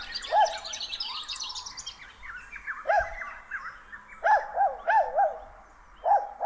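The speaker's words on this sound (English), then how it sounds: "The bird sounds will naturally play out." Game sound ambience with layered bird calls and chirps, repeated in bright bursts with a faint dog bark mixed low in the background, no talking.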